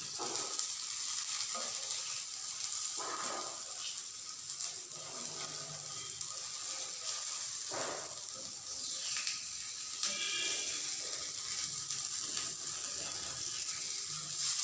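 Cumin and asafoetida crackle and sizzle in hot oil, a steady close frying hiss with scattered pops and small bursts throughout, no voices.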